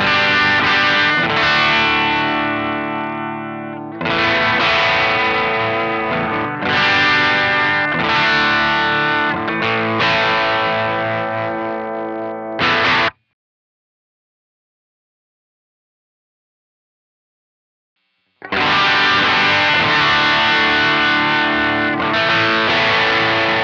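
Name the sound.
electric guitar chords through JHS Kilt distortion capture on Tone Factor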